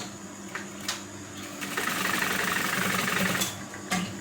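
Sewing machine joining the trouser body and a slanted pocket piece, running in a steady whir of moderate loudness through most of the stretch, with a few brief clicks and knocks in between.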